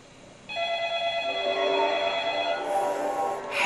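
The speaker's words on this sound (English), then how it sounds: "Pick up the phone, Noah." A telephone in the horror film The Ring rings with a steady electronic trill that starts abruptly and stays fairly loud and continuous.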